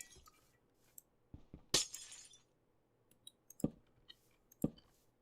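Glass windows shatter in Minecraft as blocks are knocked out, with a few crisp breaking crashes spread out and separated by small clicks and quiet gaps.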